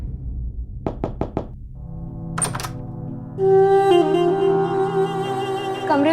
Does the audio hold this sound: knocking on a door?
yes